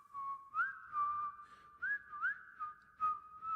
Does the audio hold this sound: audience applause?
no